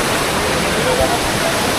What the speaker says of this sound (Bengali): এখান দিয়ে পুরো ঝর্ণাটা নিচে চলে যাচ্ছে